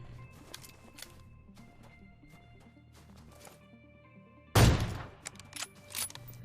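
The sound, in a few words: gunfire headshot in a shooting video game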